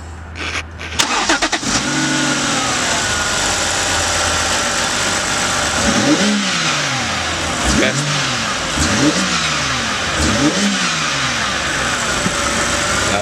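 A BMW E90 fitted with a DIY cold air intake revs repeatedly, several loud rising and falling engine sweeps over a steady idle, with people talking nearby.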